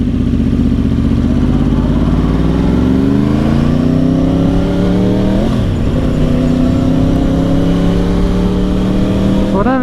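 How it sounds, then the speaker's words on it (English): A 2010 Yamaha R1 with a 1000cc crossplane-crank engine, close and loud, rising through the revs with a brief dip midway and climbing again, its uneven rumbling note continuous throughout. "You gotta love the sound of the cross plane crank."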